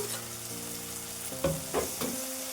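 Spices and coriander powder fry in a pan for tomato rice with soya chunks, giving a close, steady sizzle with a couple of sharp stirring scrapes toward the end.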